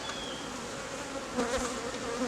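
Bees buzzing around an open beehive while a queen-grafting frame is handled, a steady close droning hum with a slight swell partway through, no talk.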